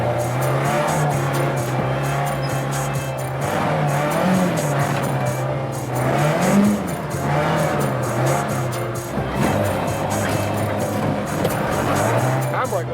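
A Mk2 Ford Escort ST170 drifts around a track at Santa Pod, its engine droning steadily as the tyres squeal in long, wavering bursts, loud and close throughout.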